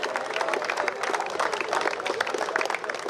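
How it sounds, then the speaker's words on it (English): Crowd applause for a youth steel band at a pan history exhibition and tribute evening in Trinidad, dense continuous clapping from a sizeable audience throughout. "Give them a round of applause."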